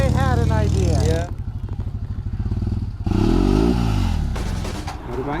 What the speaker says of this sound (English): Motorbikes everywhere.